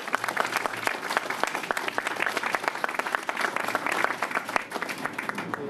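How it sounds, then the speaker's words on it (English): Sustained applause from an audience at a New York City asphalt plant opening, honoring DOT roadway workers: dense, steady clapping filling the whole stretch at moderate loudness, no voices over it. "I would like one more round of applause for all the DOT workers"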